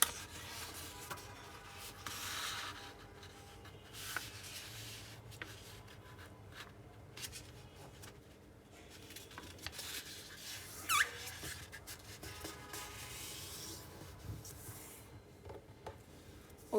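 Rectangular paper being folded edge to edge for an origami basketball hoop gives soft continuous rubbing, crinkling and creasing squeaks, close and quiet, with no talk.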